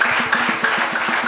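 An audience claps briefly at a lively tribute event, the claps blending with a steady background hum.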